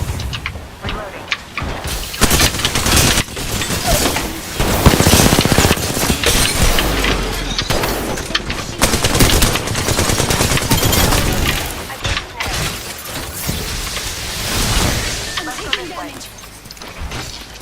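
Rapid bursts of gunfire in a frantic Apex Legends firefight, nearly continuous and loud, mixed with explosions and game effects, with a voice heard at times.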